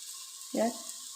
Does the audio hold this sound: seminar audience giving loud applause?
no